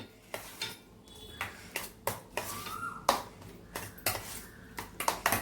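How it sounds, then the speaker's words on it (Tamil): A spoon stirs milk into millet curd rice in a metal vessel, giving a series of light clinks and scrapes in an irregular rhythm, moderately close with faint background noise and no speech. "இப்போ கலக்கிடுவோம் நல்லா."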